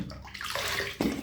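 Water splashes and sloshes in a child's bath, a short burst of close, bright splashing and bathtub water movement.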